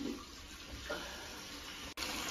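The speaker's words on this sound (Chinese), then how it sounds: "开水，准备试水。" Water rushes steadily from a supply line into a newly installed toilet, a continuous close hiss with one brief dropout near the end.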